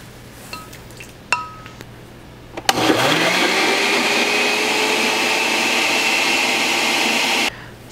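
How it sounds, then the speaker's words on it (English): After a few clinks of glass and utensils, a countertop blender switches on and purees cooked vegetables for a soup, a loud steady whirring roar for about five seconds before stopping abruptly. "blender."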